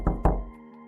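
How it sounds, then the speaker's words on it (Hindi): Two quick knocks land on a school office door in an animated Hindi story. They are close, dull thuds followed by a soft, lingering tonal ring. "उसी वक्त दरवाजे पर दस्तक हुई।"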